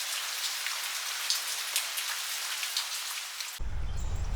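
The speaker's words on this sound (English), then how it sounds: "Well, it's raining today." Rain falls steadily outdoors near a wet trailer, a dense, even patter of drops on surfaces with scattered louder taps, then a sudden shift to a closer, lower rushing sound near the end.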